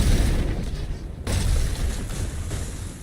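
A beam auto cannon fires in the mech combat game Mechabreak, producing repeated heavy booming blasts with a low rumble. There is a short gap partway through, and no speech is heard.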